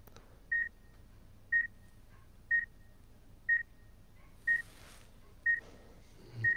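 A ghost-detector device gives short, evenly spaced high beeps about once per second, seven in all, each sharp and clear against a quiet background hiss.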